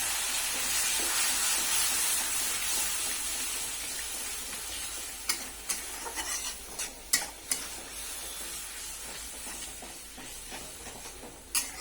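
A cooking pan of fried brinjal being stirred, steady sizzling hiss underneath with a scatter of sharp scraping knocks from the utensil toward the end; close and moderately loud, no voices.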